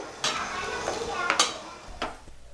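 Potato and pea kurma is stirred in a pan, with a few sharp spoon-on-metal scrapes and clatters over a soft simmering sizzle, close and moderately loud.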